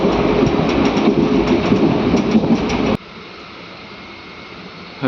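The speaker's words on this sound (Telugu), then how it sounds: "లక్ష్మాపూర్ నుంచి మన ట్రైన్ బయలుదేరింది" A Kacheguda–Medak passenger train rolls along the rails with a loud, steady rumble and rhythmic wheel clatter, then the noise drops abruptly to a quieter, muffled hum for the last couple of seconds.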